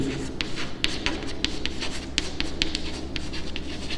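A pen writes on paper close up, with quick scratchy strokes and small taps in a steady rhythm over a low background hum.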